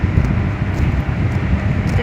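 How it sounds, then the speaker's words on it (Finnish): Wind blowing outdoors on a cold day, a steady, loud, buffeting rumble that fills the whole stretch without a break, as if pushing against a handheld microphone. "Vähän kylmä. Vähän tuulee."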